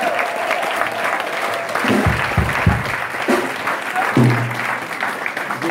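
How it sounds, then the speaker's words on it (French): A church congregation applauds and cheers for Jesus at a closing gathering in Saint-Denis, a dense, loud wash of clapping with crowd voices and shouts mixed in throughout. "Est-ce qu'on peut acclamer Jésus?"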